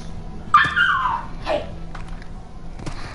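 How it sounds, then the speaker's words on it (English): A dog gives a few sharp yips and whining cries close by, spaced over a few seconds with quiet gaps between them. "My dog is the loudest thing on earth."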